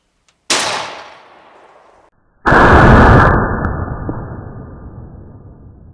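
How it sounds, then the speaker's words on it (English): A shotgun fires a mini birdshot shell at a target 20 yards away: one sharp, loud blast with a lingering decay, preceded by a fainter, shorter crack of the same kind. "let's see what this little mini shell will do at 20 yards"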